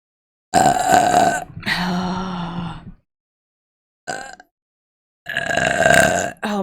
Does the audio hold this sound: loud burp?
yes